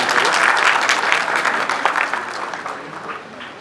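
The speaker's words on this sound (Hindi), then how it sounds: "तालियां नाल इस्तकबाल करो" An audience at a Punjabi book awards ceremony welcomes a speaker with dense, sustained applause from many hands, loud at first and slowly fading.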